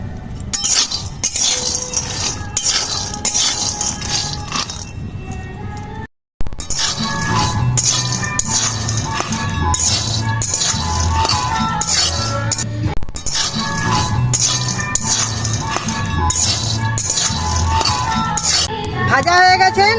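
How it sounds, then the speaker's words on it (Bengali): Peanuts are dry-roasted without oil in a wok, a constant rattling clatter of nuts scraped and tossed against the metal that goes on loudly for the whole stretch, pausing briefly partway through, with voices now and then. "তেল দিয়ে ভাজবো না, শুকনো কড়াই ভাজবো।"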